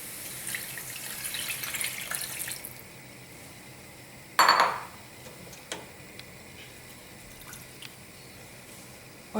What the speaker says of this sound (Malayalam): ചിക്കൻ സ്റ്റോക്ക് ചേർക്കുകയാണ്.